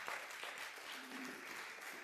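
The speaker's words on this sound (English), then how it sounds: "can you give her a round of applause?" Audience at a church conference event applauds for a poetic drama performer, a steady crowd clapping that holds evenly for the whole stretch with no voices on top.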